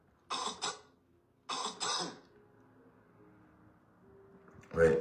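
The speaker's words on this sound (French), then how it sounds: "Je tousse à nouveau." A person coughs close to the microphone, two quick double coughs separated by a short pause, followed by a faint hum and a brief sound at the end.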